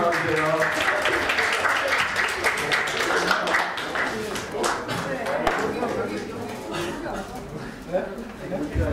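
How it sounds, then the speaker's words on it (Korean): Hackathon awards audience clapping steadily, a dense moderate patter of many hands with some voices mixed in, fairly even throughout. "박수 부탁드릴게요"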